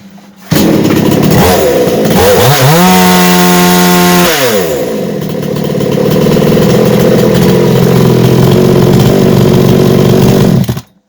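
Mächtz MCG-3145 petrol chainsaw starts up loud and close, revving high with a rising then falling pitch before dropping to a low, steady idle that runs until it cuts off near the end; no one speaks.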